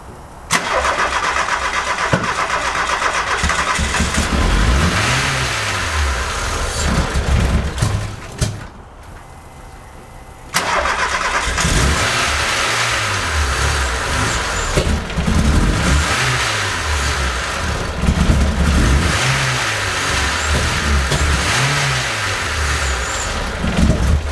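A VW Golf MK2 GTI 16V engine starts and revs repeatedly in blips that rise and fall, loud and close, with a brief cut in the middle and no talking.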